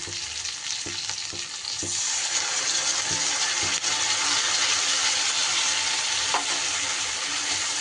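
Chili Bombay duck fish frying in a pan with a poured-in sauce as it is stirred, giving a steady, close sizzle with occasional scraping clicks from the spoon that grows louder after the first couple of seconds.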